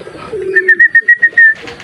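At a racing pigeon loft in Santa Maria, Isabela, a pigeon gives a close, loud coo: a low throaty note followed by a quick run of pulsing, rhythmic coos.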